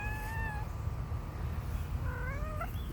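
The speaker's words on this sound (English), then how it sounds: "over here we have a whiny cat" A cat in a June backyard garden whines with two drawn-out, rising meows, one at the start and one near the end, over steady outdoor background noise.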